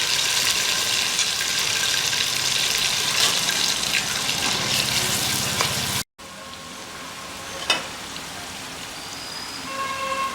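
Chopped onions and green chillies frying in hot ghee for a Mughal-style mutton Akbari, a steady loud sizzle and crackle that drops briefly, then continues more softly with a few sharp pops.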